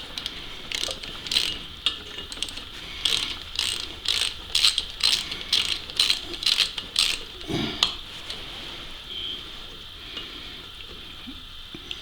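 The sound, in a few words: socket ratchet removing exhaust stud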